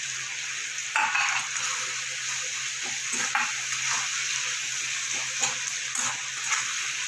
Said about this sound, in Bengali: এবার একটু কিছুক্ষণ ভাজা ভাজা করতে হবে, যতক্ষণ না টমেটোটা নরম হচ্ছে।